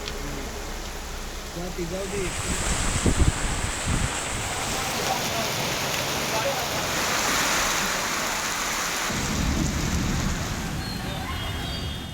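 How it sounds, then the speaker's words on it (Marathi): Steady heavy monsoon rain and wind noise roar throughout in Nanded, with a voice talking partway through and a brief low rumble near the end. "नांदेडमध्ये हा मुसळधार पाऊस सुरू झालेला आहे।"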